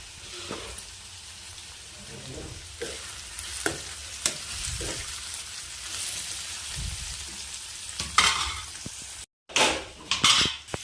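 Ivy gourd curry sizzling as it fries in a pan while a spoon stirs and scrapes through it, steady frying hiss with repeated clinks, close and moderately loud, briefly cut to silence near the end.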